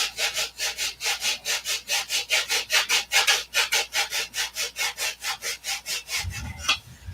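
Sandpaper rubs back and forth across a wooden model airplane fuselage in a steady rhythm of about two dozen close scraping strokes, ending with a soft knock.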